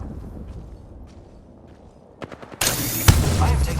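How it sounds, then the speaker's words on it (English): Gunfire in the Apex Legends video game: a few sharp shots followed by a sustained loud burst of rapid fire over a low rumbling game backdrop. "I am taking fire."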